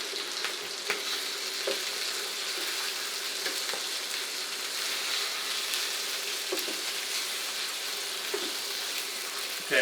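Chorizo fries in a pan, a close, continuous sizzle and crackle with a few small stirring clicks and pops and no talking, the meat starting to burn.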